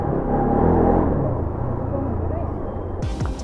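A motorcycle rumbles low and steady while being ridden on the road, its deep engine drone continuous throughout, with a voice talking over it.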